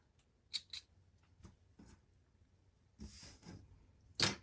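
Small scissors snipping loose threads from sewn wax-print fabric, a few sharp isolated snips spaced apart with quiet handling between, ending in a louder close cut.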